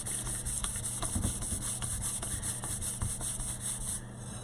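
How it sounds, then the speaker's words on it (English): A surface being prepared for painting is sanded by hand, giving steady repeated rubbing strokes over a constant background hum, close up with no speech. "I'm just going to finish sanding this up"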